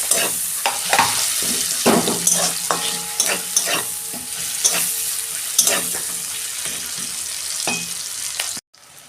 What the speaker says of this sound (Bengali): পেঁয়াজ দিচ্ছি, অল্প নুন দিচ্ছি পেঁয়াজে।